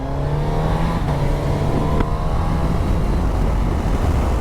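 A 2022 Suzuki GSX-S1000GT sports tourer motorcycle engine drones steadily while riding tight roads, loud and close, with a constant hum and slight shifts in pitch.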